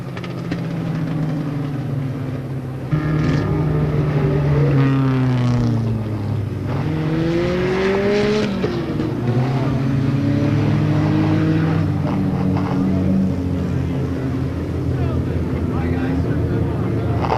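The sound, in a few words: race cars racing at Monadnock Speedway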